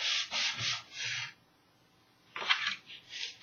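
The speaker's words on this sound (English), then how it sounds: "Apply it to your base, making sure you're all even on around all 4 sides. Burnish that down." Paper glued onto a card base is burnished down by hand, giving two short bursts of dry, close rubbing and scraping separated by a brief pause.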